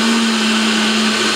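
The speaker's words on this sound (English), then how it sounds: "I'm going to first pulse it." A HadinEEon GS-651 adjustable-speed blender pulsing banana milk gives a loud, close, steady motor whine with a constant pitch through the short burst, with no talking.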